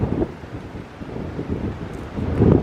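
Wind buffets a microphone outdoors in loud, uneven gusts, rumbling low and swelling and fading over a few seconds, with no talk.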